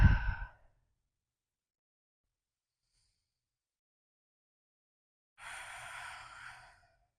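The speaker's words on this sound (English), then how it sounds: "So I'll breathe into it." Slow, deep breathing during a yoga pose: a soft exhale at the start, a long silence, then a drawn-out breathy exhale close to the listener.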